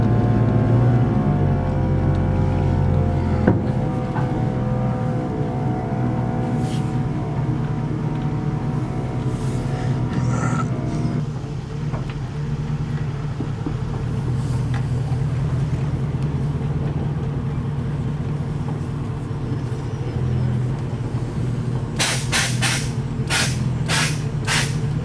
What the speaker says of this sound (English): Let's turn the truck around so we can start working on the front end now that the bed's primed.